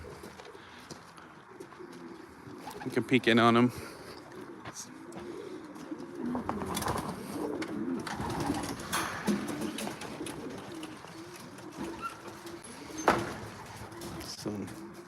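Racing pigeons in a loft with an aviary, cooing softly and intermittently at close range, with wing flutters, a brief door-like scrape and someone speaking nearby.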